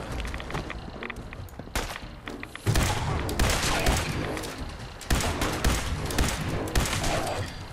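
Gunfire in Fallout 4 cracks out in loud, rapid repeated shots with heavy thumping impacts, a dense, sustained barrage that intensifies after a brief pause.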